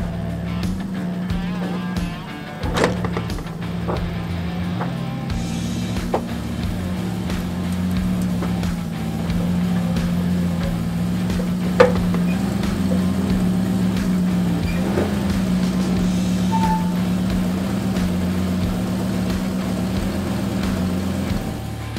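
Toyota truck idling while being driven onto a trailer, a steady low engine rumble throughout with occasional faint clanks and knocks.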